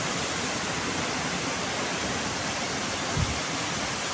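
Curug Cigorobog waterfall in Sumedang at night, a steady broadband rush of falling water that holds constant throughout, with one brief low thump near the end.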